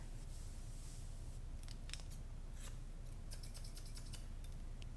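Scissors snip through long dry hair in a salon haircut, a quick run of crisp close-up cuts clustered in the second half over a low steady background hum, with no talking.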